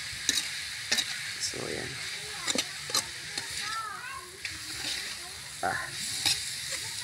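A filling sautés in a pan with steady sizzling while a spoon stirs and scrapes it in sharp, repeated strokes. Brief bits of talk and background voices come through faintly.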